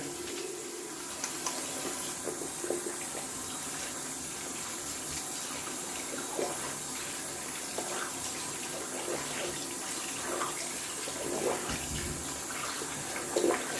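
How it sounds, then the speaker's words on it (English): Tap water runs into a bathroom sink to wash out shaving soap lather and stubble, a steady close gush lasting throughout with slight splashing variations and no talking. "Just gonna wash out the sink a little bit first because that looks really messy with stubbles and soap residue from the lather."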